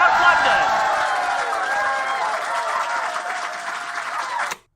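Loud, sustained standing ovation from a comedy podcast audience in London, dense clapping and cheering filling the whole stretch before cutting off abruptly at the end.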